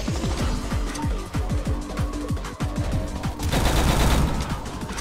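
Rapid gunfire from the Roblox-style shooter Phighting, a dense fusillade of loud, close shots firing in quick bursts that crowd together toward the end.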